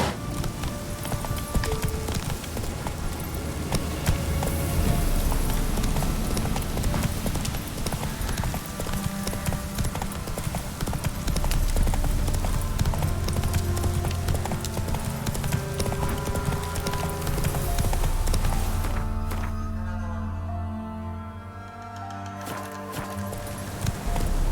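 Hooves of the horse Roach pound in a fast gallop in The Witcher 3 next-gen update on PC, a loud continuous clip-clop rhythm over game music and ambience, easing briefly near the end.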